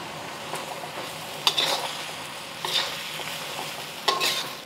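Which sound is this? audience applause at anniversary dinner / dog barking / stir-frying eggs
stir-frying eggs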